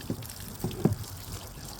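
Water splashing while processed goat meat is rinsed, a few short, soft splashes and trickles in quick succession with no talk.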